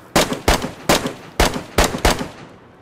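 Six loud, close gunshots ring out in the DayZ video game at a steady, even pace about half a second apart. Each shot is sharp and punchy with a short decaying tail, and no voices are heard.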